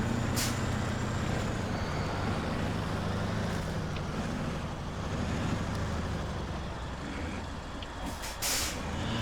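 In SnowRunner, a heavy truck engine drones steadily as it hauls a trailer over rough ground, loud and continuous, with sharp air-hiss bursts near the start and again toward the end.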